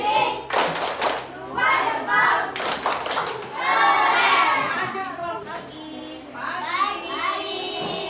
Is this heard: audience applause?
yes